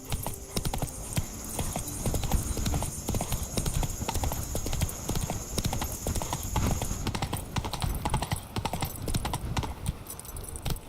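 Hooves of Roach the horse pounding in a fast gallop in The Witcher 3, a dense, close, rhythmic clip-clop running the whole way with a faint whinny under quiet game ambience.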